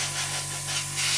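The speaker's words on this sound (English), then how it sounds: "I'm just going to spray the inside of the cockpit area" An airbrush or spray can hisses steadily at close range, spraying paint inside the cockpit of an Eduard 1/48 MiG-29 plastic model kit, with a continuous airy rush and a low mains hum underneath.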